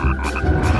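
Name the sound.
wood frog croaking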